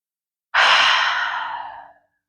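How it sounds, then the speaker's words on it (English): A single long, deep breath, inhaled and then slowly released in a soft breathy sigh during a yoga session, close and alone in quiet surroundings. "So we'll just take a deep breath."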